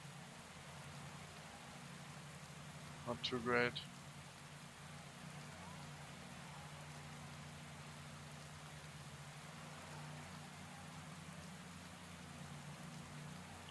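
Steady rain falls throughout a Pro Cycling Manager 2017 race as a soft, even hiss with a low drone beneath; a brief spoken phrase cuts in near the start.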